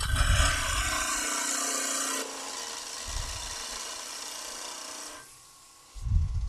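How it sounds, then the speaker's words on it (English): A skew chisel planes across the top surface of a spinning wood piece on a lathe, a continuous close shearing hiss over the motor hum that changes tone partway and then drops away near the end. "we'll get the skew, just a little bit of cleaning up, planing across the top surface."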